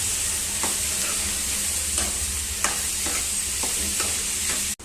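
Chopped onions sizzle steadily in hot oil with a constant frying hiss, while a spoon scrapes through the pan in several distinct strokes.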